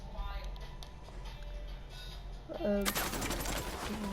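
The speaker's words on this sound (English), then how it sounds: "I'm shooting these fuckers" Gunfire in the video game Ghost Recon erupts as a loud burst near the end, after a quieter stretch of game ambience; people can be heard talking around it.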